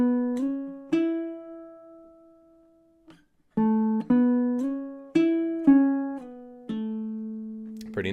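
Fingerpicked baritone ukulele riff across two measures: a few sustained plucked notes, a brief pause, then a quicker run of bright notes, close-up and unaccompanied.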